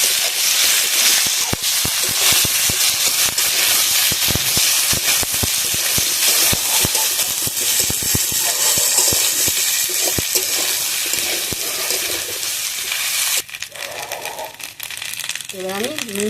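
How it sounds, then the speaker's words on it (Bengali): Ginger garlic paste sizzles as it is fried in a pan, a loud, close, continuous crackling hiss with scraping stirs, easing near the end as a voice speaks briefly. "আদা রসুনটা দিয়ে আবার ভালোভাবে একটু কষিয়ে নেবো"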